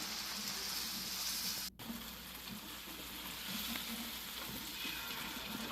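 Spices sizzle and fry steadily in oil and ghee with a nut-paste liquid added, a dense continuous hiss close up with stirring, briefly cut off by a momentary gap before resuming.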